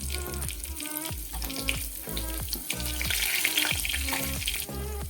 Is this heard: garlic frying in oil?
yes